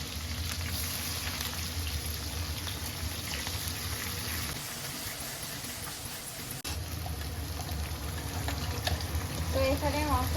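Chopped onion and garam masala fry for a meat curry, a dense, steady sizzle with stirring scrapes close by, briefly dipping and then returning louder.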